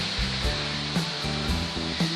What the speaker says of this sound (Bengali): অবশেষে আমরা ঝর্ণার কাছাকাছি এসে পড়েছি।